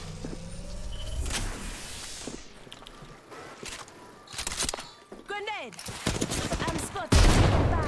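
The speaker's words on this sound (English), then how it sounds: "Listen up, I'm getting shot at" Gunfire in the battle-royale game Apex Legends: repeated close, loud bursts of automatic fire, with sharp single shots cutting in between, over busy game noise and a voice.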